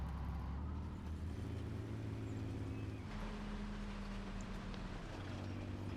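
A Valentine Archer tank in War Thunder rumbles along with a low, continuous engine drone and track noise that shifts in pitch, heard close with no talking.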